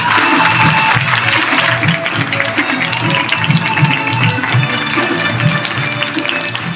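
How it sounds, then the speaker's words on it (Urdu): Schoolchildren applaud the main contractor at a girls' high school inauguration, a dense, loud crowd clapping that holds steady throughout with a murmur of voices beneath it. "دل کھول کے اس کو تالیاں."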